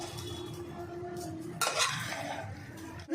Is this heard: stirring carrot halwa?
yes